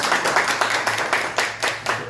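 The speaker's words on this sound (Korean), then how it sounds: "잠깐 우리 박수 한번 주세요." A church congregation claps together to welcome a member: loud, rhythmic group clapping in even beats, close and clear with no talking over it.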